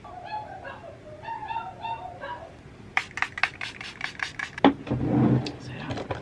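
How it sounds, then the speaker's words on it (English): Dogs whine and yip in the background, then a run of sharp barks breaks out, followed by scuffling noise. "Pardon the dogs."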